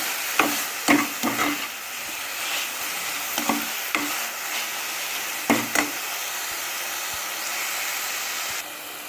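Sugar being stirred into carrot halwa in a pan, a steady soft hiss of cooking broken by a handful of scraping stirs and light clinks, close and fairly quiet, no talk.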